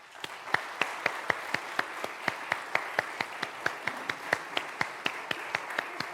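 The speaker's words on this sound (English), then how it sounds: "join me in giving a warm applause of appreciation and support to our new Home Under the Dome directors" A church congregation applauds in a steady, evenly paced rhythm of sharp claps, each distinct over a soft room wash, heard from a moderate distance with no talking.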